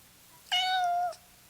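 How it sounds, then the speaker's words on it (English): A single clear meow from a young cat, close and loud, lasting about half a second and rising then falling, with quiet around it. "Oh, that's my new kitty."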